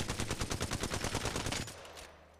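Rapid automatic gunfire in a shooting video game while aiming down sights, a fast, even burst of about fifteen close, loud shots, then an abrupt stop into a quiet tail.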